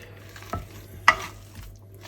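Boiled potatoes are mashed by hand into a traditional purée, giving a few soft, squelchy thumps against a quiet background.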